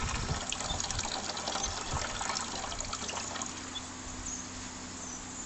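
Water poured off settled tomato seeds gushes steadily for several seconds, a continuous splashing rush close by with no talking.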